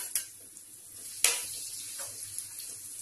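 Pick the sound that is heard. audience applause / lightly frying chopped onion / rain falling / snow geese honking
lightly frying chopped onion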